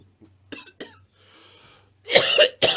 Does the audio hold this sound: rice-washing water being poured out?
no